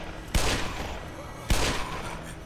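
Gunfire in the video game Black Mesa: two sharp, booming shots about a second apart, each followed by a decaying rumble, loud and close.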